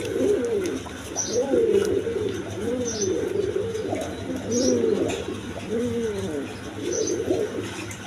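Large pigeons coo steadily in low, rolling calls that repeat every second or so, with faint chirps and a soft background hum.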